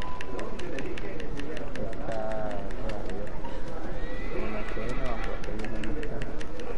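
Horse in Shadow of the Colossus galloping with a steady, quick beat of hooves, letting out a couple of drawn-out whinnies midway through, all set against a constant dense wash of game ambience.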